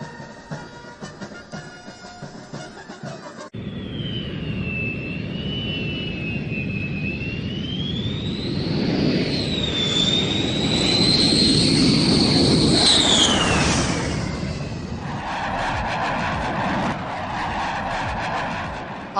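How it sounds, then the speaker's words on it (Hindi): Fighter jets fly past during an Indian Air Force rehearsal: a loud, building roar with a high rising and falling whine that peaks overhead and then fades, with no voices. "फाइटर प्लेन की गड़गड़ाहट गूंजनी शुरू हो जाएगी।"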